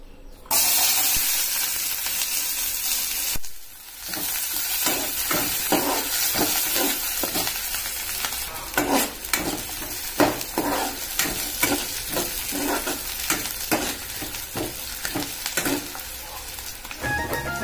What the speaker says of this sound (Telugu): ఆయిల్ వేడైంది. ఇప్పుడు ఆనియన్స్ వేసుకున్నాం.